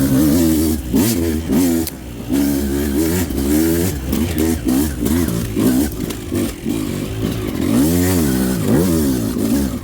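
A 2025 Beta 200 race edition two-stroke motorcycle with an RK head revs hard in third gear on a dirt track, loud and near, with rising and falling engine pitch sweeps, brief throttle cuts and repeated surges.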